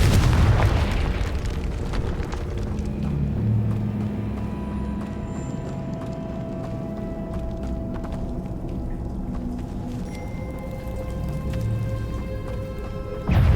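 The Confringo fire spell goes off in the Hogwarts Legacy video game with a loud rumbling blast at the start, followed by a sustained low roar and crackle of game effects and another burst at the end.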